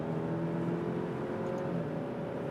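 An Alfa Romeo Stelvio Veloce engine drones steadily from inside the cabin with a smooth, even hum, with no clear rev rise or shift break in this short stretch.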